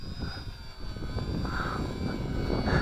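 Small XK DHC-2 A600 radio-controlled model airplane flies over an open field, its electric motor giving a steady buzzing whine that rises slightly in loudness as the plane comes nearer.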